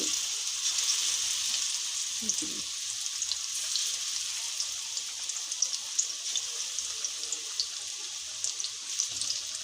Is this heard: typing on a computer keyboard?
no